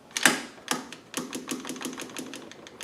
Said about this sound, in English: just pull the bolt all the way back, pull the trigger